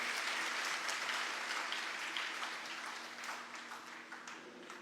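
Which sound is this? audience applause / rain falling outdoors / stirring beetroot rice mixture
audience applause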